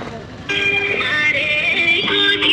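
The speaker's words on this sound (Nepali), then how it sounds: "रिङटोन चाहिँ कडा छ है" A mobile phone ringtone plays loudly and close by in an outdoor traffic office setting, a bright synthetic melody that begins abruptly after a short quiet moment and continues with shifting tones.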